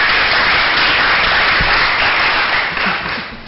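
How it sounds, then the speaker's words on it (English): Steady, dense applause from an arts summit audience for a panel discussion, loud and continuous, swelling briefly and then tapering off at the end. "One more round of applause."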